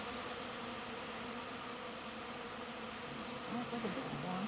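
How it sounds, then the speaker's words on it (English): Several thousand honeybees swarm near a top bar hive and kale flowers, a dense continuous buzz with no break. "there's several thousand bees. That's a large swarm"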